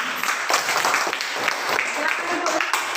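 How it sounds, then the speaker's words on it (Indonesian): Classroom audience of students and teachers applauding after a group presentation, a brisk burst of hand claps with some murmuring voices mixed in. "Iya, tepuk tangan."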